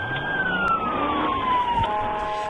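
A police car siren wails during a chase after a stolen ambulance. The single steady tone slides slowly downward over road and engine rumble, with no voices.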